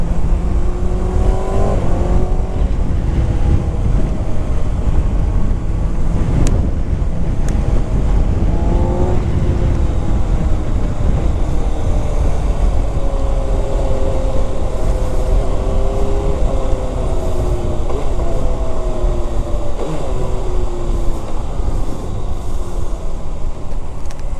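Engine of a 2025 Kawasaki Ninja ZX-6R 636cc supersport motorcycle on a test ride, a steady loud drone with rising and falling pitch as the rider revs and shifts, continuous wind rush throughout, no talking.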